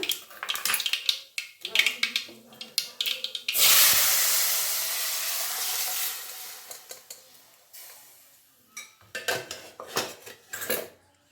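Metal utensils clatter, then a loud hissing sizzle erupts as ingredients for a spinach curry hit hot tempering oil and slowly fade, followed by more clinking of a spoon on a pan.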